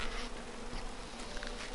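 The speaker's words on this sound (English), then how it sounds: "Persistent bees." Persistent bees buzzing in the King's Quest adventure game, a faint, continuous insect drone with slight wavering, heard alone without speech.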